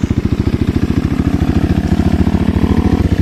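Motorcycle engine idling at about 1,500 rpm while its fuel-screw type carburetor is tuned, a steady, fast, loud putt-putt pulse with slight mechanical clatter, close and alone.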